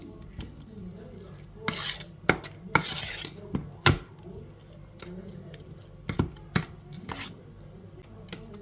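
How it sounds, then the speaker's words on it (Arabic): Aged cheese being mashed with a spice mixture in a bowl gives soft squishing sounds punctuated by sharp utensil knocks and scrapes, spaced irregularly and fairly quiet throughout. "ادي الجبنه القديمه حطينا عليها الخليط، نبتدي بقى نهرسها كده"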